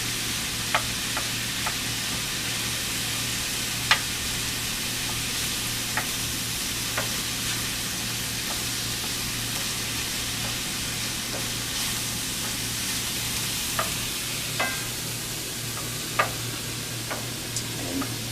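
Butter sizzling in a frying pan over a gas flame, a steady, even hiss with occasional small pops and ticks, close and without talk.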